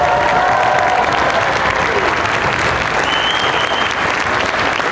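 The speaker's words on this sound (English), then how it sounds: "Let's keep your applause going for the eighth grade band." Audience applause for an eighth grade band at an all-city school band concert, a thick continuous wash of clapping from a big crowd, loud and even, with faint voices underneath.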